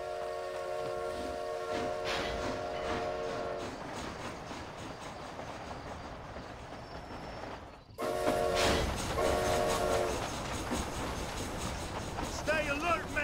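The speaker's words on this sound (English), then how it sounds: "Is this train headed for Mexico?" A train rolls along in Red Dead Redemption: Undead Nightmare. The rumble of the train runs steady and loud throughout, with a horn-like tonal sound early on. Voices speak over it, and the level jumps up sharply partway through.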